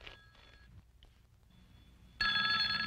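An old telephone bell rings in a Filipino drama scene: a short ring at the start, quiet pauses, then a loud sustained metallic ring that begins partway through and continues to the end, with no talking.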